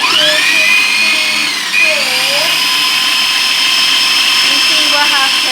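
A kitchen appliance churns chocolate chip cookie dough with a loud, continuous motor whine that wavers and briefly dips in pitch before settling back to a steady drone.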